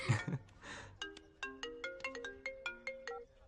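A mobile phone ringtone plays a bright, repeating melodic pattern of quick chiming notes, clear and moderately close, with nobody talking over it.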